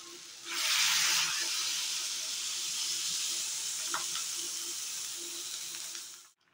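Water poured into a pan of frying pointed gourd and potol sends up a loud burst of hissing steam that settles into a steady sizzle, fading out near the end.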